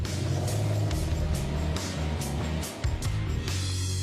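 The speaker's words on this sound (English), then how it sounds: "it's making one heck of a racket from the engine" A faulty car engine labors with a rough, uneven roar and low rumbling, loud and close, briefly dipping before surging again.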